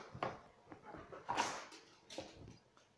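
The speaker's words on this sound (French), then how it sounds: "C'était le chien qui a voulu sauter sur mes genoux." A dog whimpers and yips in short bursts close by, restless and eager, with scuffling movement around it.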